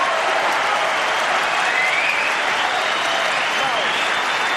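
A snooker hall crowd applauds steadily throughout, a dense, sustained wash of clapping that stays loud and even from start to finish.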